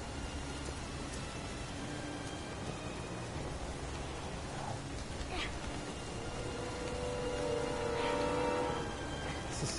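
Steady hiss of falling rain in a video game fills the scene throughout, with faint scattered drips and a few soft tonal sounds rising near the end.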